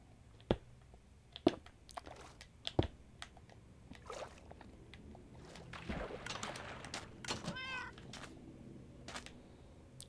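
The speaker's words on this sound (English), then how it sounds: "Kitty figured out how to open the door." A cat meows several times in sharp, close bursts spaced a second or so apart, followed by softer rustling and a brief warbling cry near the end.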